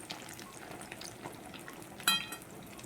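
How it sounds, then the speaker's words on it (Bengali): Onion fritters fry in fish oil with a faint, steady crackling sizzle, and a single sharp clink of a utensil partway through. "আমিও বড়াগুলা খুব বড় সড়ো করে ভাজছি"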